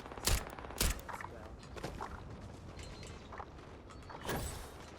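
Turret gunfire in the video game Starfield, played on very hard mode: a few sharp shots cracking out at irregular intervals over low background game noise.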